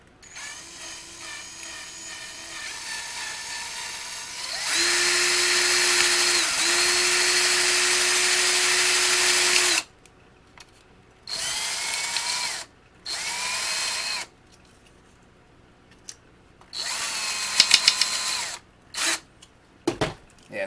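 A power drill bores into a plastic part of a Monogram/Revell Battlestar Galactica Colonial Viper Mk1 model kit, a loud steady whine running for several seconds, then a series of short on-off bursts of drilling with pauses between.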